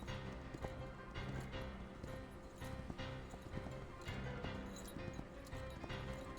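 Horse hooves clip-clop through a busy scene from an old Western, with galloping and an occasional whinny under a dense, continuous layer of music and effects.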